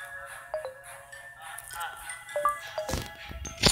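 A phone ringtone plays a short series of thin, high melodic beeps at moderate volume, followed near the end by a few sharp, noisy bursts.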